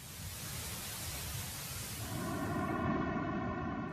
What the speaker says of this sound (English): As hissy as the early cosmic sound is, it differs from pure white noise